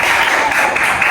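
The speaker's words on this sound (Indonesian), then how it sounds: "kasih tepuk tangan dulu untuk Justin ya" Classroom applause for a student during an Indonesian-language microteaching lesson, a steady, loud wash of many hands clapping at once with no pauses.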